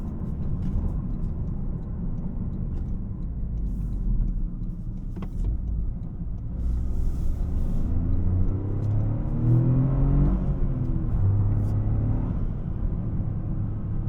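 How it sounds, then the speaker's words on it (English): A 2025 Toyota GR Corolla engine rumbles from inside the cabin, then builds as it accelerates, with a rising turbocharger whine layered over the drone. "You can hear the turbo."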